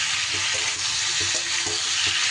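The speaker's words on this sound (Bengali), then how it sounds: "গ্যাসটা বাড়িয়ে দিয়ে বেশ কিছু সময় আমি একটু নাড়াচাড়া করতে থাকবো।" Green tomatoes frying in a hot pan with steady, loud broadband sizzling, and a few soft scraping knocks as a spatula stirs them.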